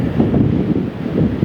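Wind blowing across an open airfield at Lihue, Hawaii, buffeting the microphone as a steady, dense low rumble with gusty swells and no voices.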